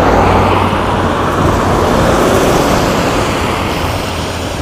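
Fast cars pass a cyclist on an English road. A loud, steady roar of traffic and wind rushing by fills the whole time, with no talking.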